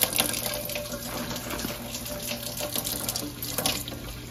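Tap water runs steadily into a sink as freshly harvested garden vegetables are rinsed, a close, continuous splashing stream with faint handling noises and no talk.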